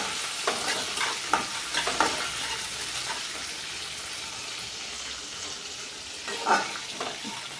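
Mustard seeds, chilies and curry leaves fry for a tempering, a close crackling sizzle with several sharp stirring scrapes and spatters early and again near the end.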